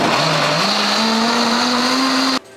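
Electric blender whirring steadily at high speed while blending a mixture for a chicken salad recipe, loud and continuous with a slowly rising motor pitch, then cutting off abruptly near the end.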